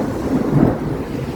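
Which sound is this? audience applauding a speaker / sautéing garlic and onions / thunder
thunder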